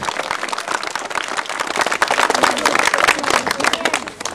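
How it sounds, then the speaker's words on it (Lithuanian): Dense, sustained applause from a crowd at an outdoor midsummer festival in Agluonėnai, many hands clapping steadily and building slightly louder toward the middle. "Didžiuliai aplodismentai."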